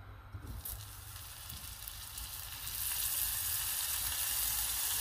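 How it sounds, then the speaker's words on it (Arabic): Butter sizzles as it hits melting, browning sugar in a pan while making pastilla, a soft frying hiss that swells and grows brighter partway through and then holds steady, fairly quiet and with no voices. "ملي كتبدا تذوب لنا السكر كنضيفوا عليها داك 50 غرام ديال الزبده"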